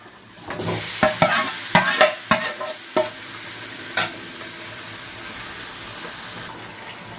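Marinated chicken pieces and potatoes frying in a pan, stirred with a run of sharp scraping clacks over a steady sizzle that fades into quieter frying.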